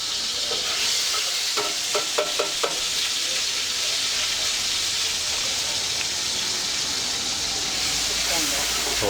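Ginger garlic paste fries in hot oil and butter for a dhaba-style whole masoor dal, giving a loud, steady, close-up sizzle that hisses throughout, with a few quick clinks of stirring early on.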